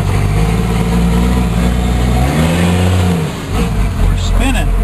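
A Chevrolet Rampside truck engine revving on a cold start makes a loud, close, steady low rumble, with the revs swelling and falling back midway.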